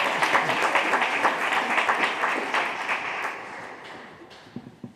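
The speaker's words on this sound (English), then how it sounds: "A round of applause again" Audience applause at an award ceremony, a dense wash of many hands clapping at full strength before tapering off over the last second, leaving a few scattered claps.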